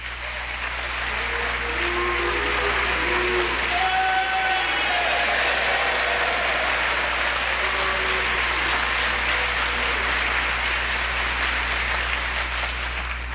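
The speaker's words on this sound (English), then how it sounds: "Yes, I heard both the applause and the boos." Audience applause mixed with boos, a steady broad wash of clapping and crowd noise lasting throughout, fairly loud and continuous with scattered vocal jeers.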